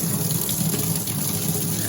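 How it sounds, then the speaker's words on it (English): A kitchen sink faucet running after a plastic P-trap repair, a steady, fairly loud rush of water pouring into the basin without any talk. "turn on the faucet"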